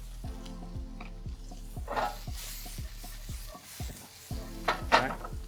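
Garlic and scallion frying in a pan with pepper, a light sizzle under repeated clinks and scrapes of a utensil against the pan, with brief louder bursts of hiss.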